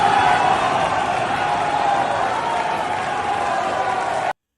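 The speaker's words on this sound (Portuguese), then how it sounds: "Porque eles estão sendo vaiados pelos outros deputados. Está todo mundo vaiando o Petro." Legislators in the Colombian Assembly boo Gustavo Petro, a dense sustained crowd roar that holds at an even, fairly loud level for several seconds before cutting off abruptly.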